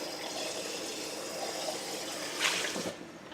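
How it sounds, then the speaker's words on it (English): A cup rinsed out with running water, a continuous close splashing trickle that swells briefly near the end and then tapers off, with no voices. "Rinse out the cup."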